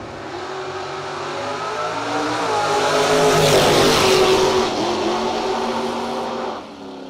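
Racing Ford Ranger truck engine at a no-box drag race, a loud sustained roar with rising and falling revs and shifting harmonics, swelling to a peak mid-clip then cutting off near the end.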